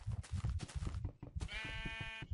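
Sheep in Minecraft bleating in a short run of rhythmic calls, followed by a longer, wavering bleat, close and clear with no talking.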